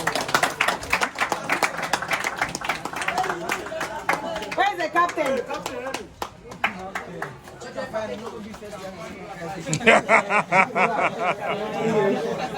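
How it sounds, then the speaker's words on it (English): A crowd at a green football match prize-giving claps as the second-place team comes up, bursts of clapping mixed with chatter, chuckles and a voice calling out, fading midway then swelling again near the end. "Please, can we clap for them as they come?"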